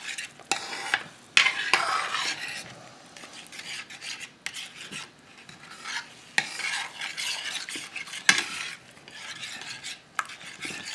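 A spatula stirs and scrapes homemade sloppy joe ground beef in a pan, producing a continuous close scraping and shuffling with light sizzling and occasional sharp clicks against the pan, no voices.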